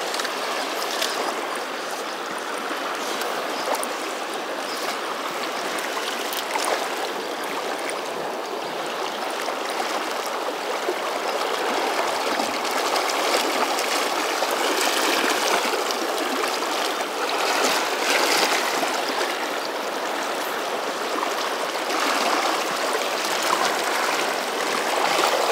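The South Fork Snake River, a large river, flows steadily with a broad, continuous rushing wash that stays fairly loud and even throughout, with no voices.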